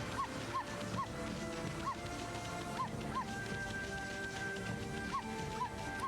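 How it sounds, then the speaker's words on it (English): Amaterasu the wolf in Okami HD gives a series of short, sharp barks spaced at uneven intervals, timed along with music and set over a busy game soundtrack. "Amaterasu starts barking."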